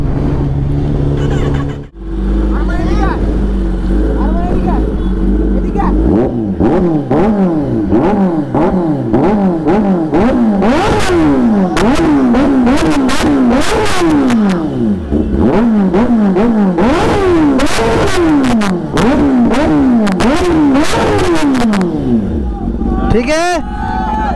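A BMW S1000RR sport motorcycle engine revs again and again, its pitch sweeping up and down in sharp repeated bursts, loud and close, with voices talking faintly underneath.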